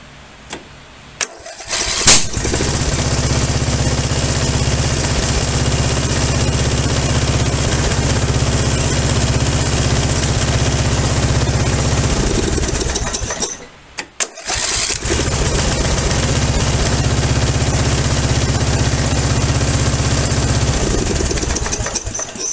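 A Briggs & Stratton small engine cranks and catches, then runs at a loud, steady idle, briefly cuts out, and restarts to keep running close by, with no one speaking.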